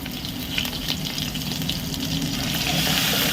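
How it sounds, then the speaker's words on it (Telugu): Ginger garlic paste sizzles in hot oil in a pan for an egg gravy curry, giving a steady, close, crackling fry with faint stirring, no voices. "దీన్ని కూడా చక్కగా ఫ్రై చేసుకోండి."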